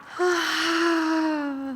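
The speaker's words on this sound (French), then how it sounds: "je bâillais" A loud, close human yawn, one drawn-out breathy voiced tone that begins abruptly and slowly falls in pitch over a second and a half.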